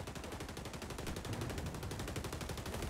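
Rapid automatic gunfire in the shooter game XDefiant, a dense continuous stream of quick shots at moderate distance, fairly quiet and unbroken.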